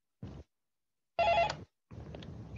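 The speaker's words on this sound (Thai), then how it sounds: "โทรศัพท์" A telephone rings in three short, fairly loud bursts separated by brief silences, the middle ring carrying a clear bell-like tone.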